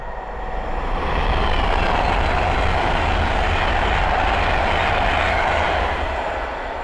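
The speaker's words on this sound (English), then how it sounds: "the next train to pass by is an Advantage West Coast Class 390 Pendolino" An Avanti West Coast Class 390 Pendolino electric train passing on the West Coast Main Line at Linslade, a loud, steady roaring rush that swells in and holds for several seconds before easing off.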